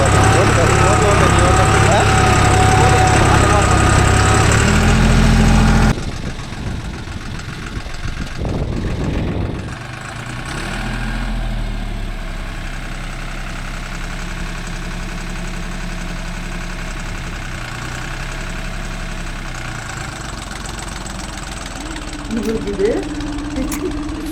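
A new Deutz-Fahr Agrolux 50 hp tractor with a 15+15 gearbox runs steadily, loud at first, then its engine drops to a lower, steadier rumble under intermittent talk.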